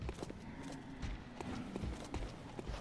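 Something large stomps nearby in the dark world of Bloodborne: a faint, regular run of heavy thudding footfalls, clopping along steadily with no one talking.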